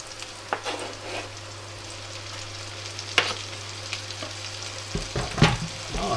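Bacon and softened onions frying together in a pan, with a steady close sizzle, occasional sharp utensil taps and scrapes, and a low constant hum underneath.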